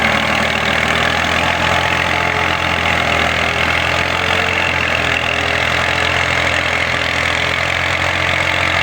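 A tractor plowing a field for wheat sowing after a flood runs with a loud, steady, low engine drone that never breaks, with no voices.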